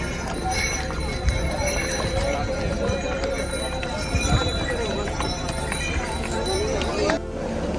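Horses carrying riders on the Kedarnath mountain trek clip-clop along the path, with scattered hoof knocks under a busy crowd murmur and occasional voices nearby.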